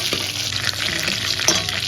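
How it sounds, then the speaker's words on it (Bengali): Chicken pieces sizzle in hot oil for a Bengali chicken kosha, a steady close frying hiss with a couple of brief stirring scrapes and no talking. "মা মাংসটা এখানে এপিট ওপিট করে ভাজা হয়ে গেছে"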